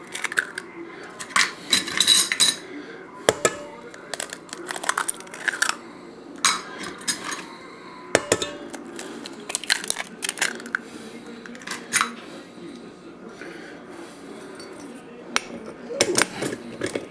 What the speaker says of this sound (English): I'm going to put in 4 eggs and mix that up thoroughly